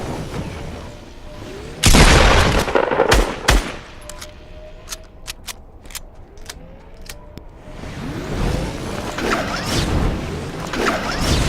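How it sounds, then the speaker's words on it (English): Gunfire in the video game Fortnite, a loud burst of rapid shots around the two-second mark followed by scattered sharp reports and a rumbling, busy game soundscape. "Oops, getting shot at."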